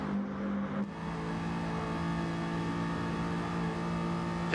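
Racing car engines drone steadily in a racing game, a sustained mid-loud whine with a slight pitch shift early on, continuous with no talk.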